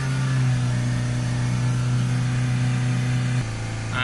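Ford Kuga 2.0 diesel with a sooted particulate filter held at raised revs, a loud steady drone with a strong low hum that dips slightly in pitch near the end as the revs ease.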